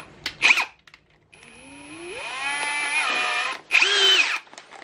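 A Ryobi R18PD7 cordless drill driver drives a screw, close and loud: short whirring bursts, then a sustained whine whose pitch rises as the motor speeds up and the screw goes in, followed by another brief burst.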